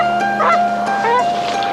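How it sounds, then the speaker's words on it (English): Geese honk a few times over a steady tonal background hum, moderately close and loud, with no talk during the calls. "some birds travel thousands of miles each year to escape the onset of winter."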